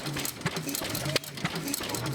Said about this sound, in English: You can't miss the sound of the antique tractors and motor displays